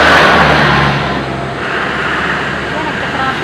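Busy road traffic with cars rolling past, a loud engine rumble fading after the first second into a steady wash of passing vehicles, with people talking nearby.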